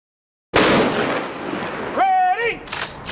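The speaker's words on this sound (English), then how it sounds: "So I fired one shot." A single loud, close gunshot cracks out after silence and rings with a long echoing tail, followed by a short voiced shout over the decay.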